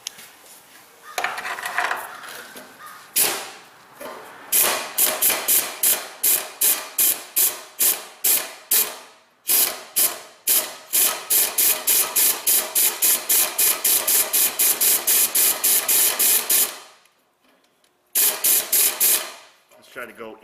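Quarter-inch impact gun hammering on a drilled-out broken bolt, loud rapid bursts of rattling impacts in repeated pulses with short pauses between, ending with a few final bursts after a brief silence.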